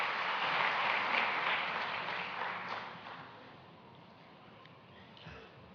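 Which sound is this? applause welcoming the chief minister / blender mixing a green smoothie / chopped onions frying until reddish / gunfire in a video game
applause welcoming the chief minister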